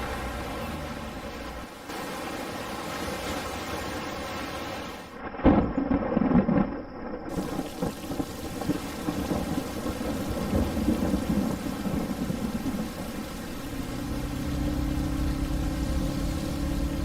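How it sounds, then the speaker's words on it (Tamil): Heavy rain pours continuously in a thunderstorm, and a loud crack of thunder rolls into a long rumble partway through, all close and without voices. "மழை வந்துருச்சு"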